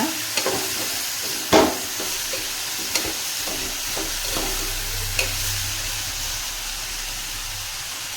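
Moth bean (madike kalu) palya fries in a pan over low gas, a soft steady sizzle broken by sharp clacks and scrapes of a spoon stirring the beans.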